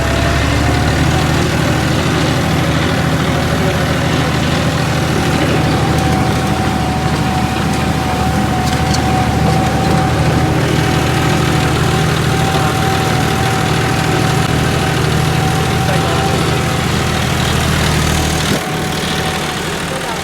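A John Deere 5210 tractor engine working hard while pulling an 18-disc harrow in a field, a loud steady diesel drone with a constant low hum and no change in pitch, running alone for the full stretch.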